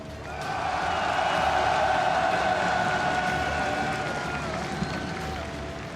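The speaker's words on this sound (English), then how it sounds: "s'il vous plaît, un tonnerre d'applaudissements" Steady applause from a large crowd at a League of Legends esports match, a dense continuous wash of clapping with a faint tonal hum underneath, sustained throughout.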